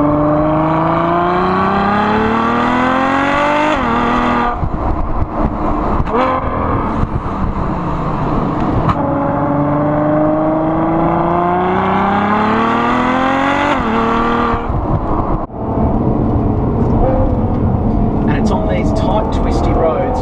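A Ferrari FF's front V12 engine revs up and down through repeated gear changes, loud and close, its pitch climbing and dropping as it accelerates on twisty mountain roads.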